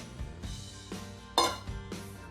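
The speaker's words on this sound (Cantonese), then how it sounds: "我哋加晒啲乾嘅食材先，攪一攪佢，混合佢" Dry ingredients for Hong Kong waffle batter, including low-gluten flour, are stirred in a bowl, giving a few quiet, separate clinks and scrapes of utensil against the bowl, one slightly louder knock midway.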